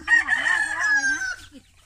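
Close and loud, a rooster on a countryside Thai farm gives one long crow during feeding time, the call wavering before it fades out.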